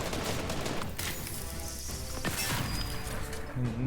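Rapid bursts of Fortnite gunfire, loud and dense, with crashing impacts overlapping throughout.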